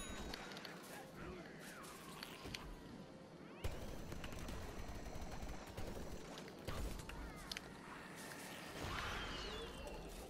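Gunfire in the shooter game Plants vs. Zombies Garden Warfare 2, with scattered shots, bursts of fire and crashing impacts in a busy battle mix, heard under a player's talking.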